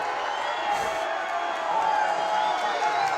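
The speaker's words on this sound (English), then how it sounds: "And the crowd booing." Crowd noise at a high school football game, a steady roar from the stands that swells slightly partway through, with scattered shouts and voices mixed in.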